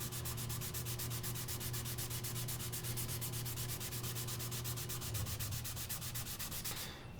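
Black leather dye being rubbed onto a figured wood piece in steady, rhythmic back-and-forth strokes, close and continuous, with no talking.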